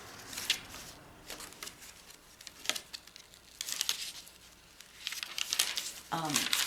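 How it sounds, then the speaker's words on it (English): A paper bag is crumpled and crinkled at close range for junk journal crafting, with bursts of crisp rustling scattered through the clip and a brief voice near the end. "Paper bag."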